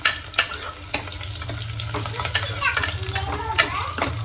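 Red chillies fry lightly in hot oil for sambar, a steady sizzle broken by sharp crackles and spatters and the scrape of stirring, close and continuous.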